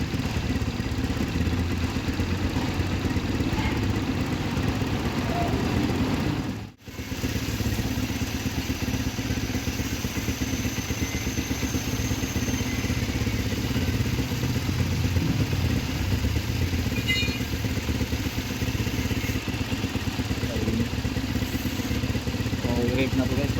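A Rusi Flash 150X motorcycle engine idles steadily with a close mechanical clatter and buzzing hum, held for over twenty seconds apart from one brief dip; someone talks at times over it.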